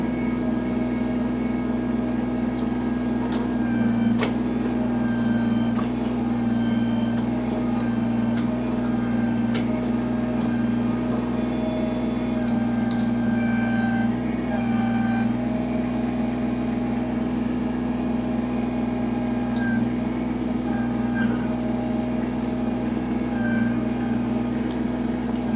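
A Kubota BX23S compact tractor drives steadily near swampy ground, its diesel engine a constant close drone with a strong low hum and occasional clanks, and no talking.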